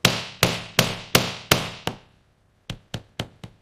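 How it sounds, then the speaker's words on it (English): A hammer taps a solid ceramic toilet in a factory during an acoustic test: six sharp, ringing strikes at an even pace, a pause, then four quicker lighter taps, close and loud with no talk. "Initiating acoustic hammer test on Commode."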